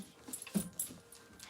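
Theo, a silver puppy, lets out soft, brief whimpers and little whiny yips, close and quiet, in a short cluster of breathy cries.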